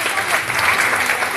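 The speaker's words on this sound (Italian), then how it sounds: "Applausi." Circus audience bursts into applause after a fire-torch act, loud dense clapping filling the tent, brief and continuous.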